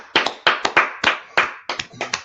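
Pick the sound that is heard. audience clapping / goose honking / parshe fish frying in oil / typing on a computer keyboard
audience clapping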